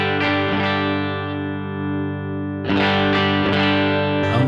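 An electric guitar plays through a 1965 Deluxe Reverb amp with a Lovepedal reverb pedal switched off: two strummed chords, each ringing out and sustaining alone, loud and close.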